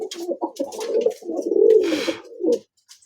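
Pigeons of a double-crested breed cooing close by in a run of low, throaty, rolling calls, with faint rustling and wing or movement sounds between them and a short pause near the end.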